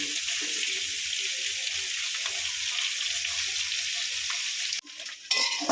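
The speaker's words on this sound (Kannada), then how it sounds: "ಈಗ ಎಣ್ಣೆ ಹೀಟಾಗಿದೆ, ಕರ್ಮೀನ್ ಹಾಕ್ಕೊತಿದ್ದೀನಿ. ಕರ್ಮೀನ್ ಚೆನ್ನಾಗಿ ಎಣ್ಣೆಯಲ್ಲಿ ಹುರ್ಕೊಬಿಡೋಣ ಫಸ್ಟ್" Karimeen fish frying in hot oil gives a loud, steady, close sizzle and hiss that holds almost throughout, briefly dips near the end, then resumes, with no voices.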